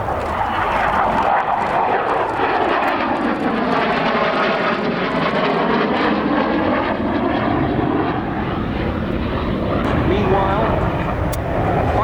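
Saab Viggen jet aircraft of the Swedish Air Force at an airshow, a loud continuous roar with a rising and falling sweep as it passes overhead, filling the whole clip.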